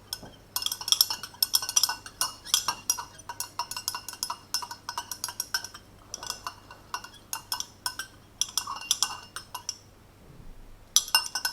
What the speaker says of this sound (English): And stir to dissolve as much as possible.